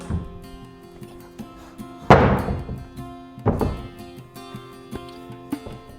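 A DIY wall-mounted fold-down garage workbench is folded, giving two heavy wooden thunks with a rattling clatter, backed by steady music.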